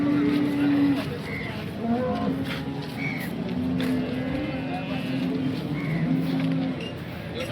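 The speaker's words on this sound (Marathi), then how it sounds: "बघा जबरदस्त मोठ्या मापाची गाय आहे." Cattle lowing at the Sangola cow market, a large cow giving drawn-out moos that rise over a busy crowd murmur, with people talking nearby.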